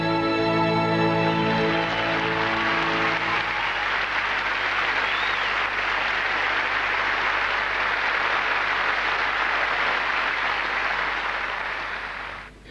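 A pageant audience at Miss South Africa 1998 breaks into warm, sustained applause, a dense wash of clapping that holds steady for several seconds before tapering off at the end.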